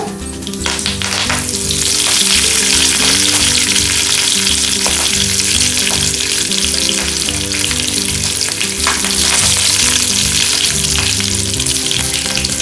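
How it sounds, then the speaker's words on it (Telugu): Curry leaves hit hot oil with a tempering of mustard seeds, cumin and chana dal for a bitter melon fry. The sizzle is loud, close and continuous, full of sharp popping crackles, with no voices. "ఇప్పుడు కరివేపాకు వేస్తున్నాను."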